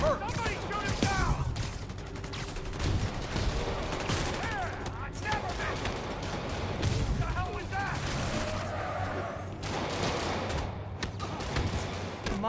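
Gunfire aimed at Spider-Man in Marvel's Spider-Man Remastered, bursts of repeated shots and booms scattered through a loud, busy combat mix, with voices speaking at times over the shooting.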